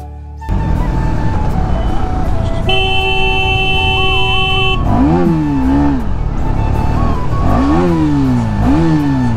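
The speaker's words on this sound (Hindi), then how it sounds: "ये मुझे ये वाली साउंड जो सूदिंग वाली होती है ज़्यादा सही लगती है इस बाइक पर।" A motorcycle ridden through traffic in Dehradun, its engine rising and falling in repeated revving surges in the second half, while nearby vehicle horns honk and a steady horn tone sounds early on, all close and loud.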